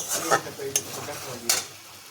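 Okra in mustard sauce is stirred in a hot pan. A few distinct scraping strokes of the spoon sound over a soft, steady sizzle, close up and without talking.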